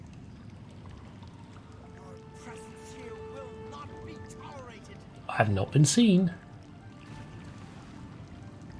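A water splash in the Elder Scrolls IV: Oblivion, set at Summitmist Manor, is a brief, fairly loud watery slosh lasting about a second midway through, with someone talking earlier in the clip.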